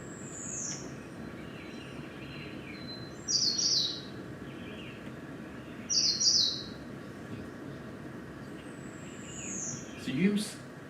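Bird song recording played during an ornithology lecture: a thin whistle followed by several short, bright chirped phrases, spaced a few seconds apart and fairly faint over a steady room hum.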